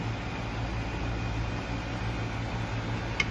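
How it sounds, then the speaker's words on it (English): An indoor air conditioner running with a steady, low broadband whoosh and a faint constant hum, with no voices and only a tiny click near the end. "Of course, the air conditioner jumps on."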